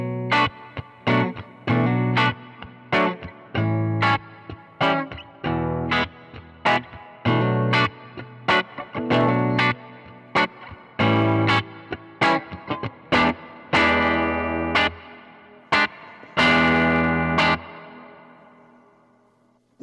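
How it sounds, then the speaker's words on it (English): Electric guitar played through an Earthquaker Dispatch Master delay and reverb pedal, the mix turned down low: a run of picked, distorted notes and short chords with a soft background reverb tail, loud and close, no talking. "that seems like it gives it that background, reverb thing without being so overwhelming"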